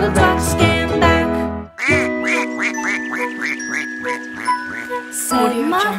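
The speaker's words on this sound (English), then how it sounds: "Mother Duck said quack, quack, quack, quack" Rhythmic quacking in a nursery rhyme song, a run of duck-like quacks set to music with tinkling accompaniment, loud and close.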